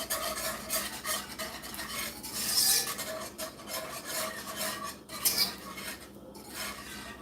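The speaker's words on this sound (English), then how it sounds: "I know I hate the sound of that scraping." A utensil scrapes hard across a pan while flour is stirred in to thicken a filling for spiked apple dumplings, a harsh, rasping, repeated scrape that sounds close and alone.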